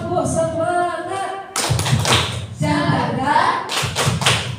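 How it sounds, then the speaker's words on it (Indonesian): A school class performs tepuk semangat, a rhythmic clapping chant, with sharp bursts of claps and thumps in a patterned beat and children's voices chanting between them. "Biar tambah semangat, kita tepuk semangat dulu ya."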